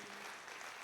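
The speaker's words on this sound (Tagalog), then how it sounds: "Malakas na palakpak," Loud, dense applause from a church congregation during a worship service, continuous clapping filling the whole short stretch with no break.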